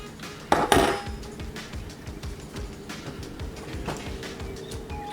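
Hamburger steaks brown in a skillet over medium heat, three or four at a time, as a metal spatula clatters sharply against the pan near the start, followed by softer scrapes and light knocks over a low sizzle.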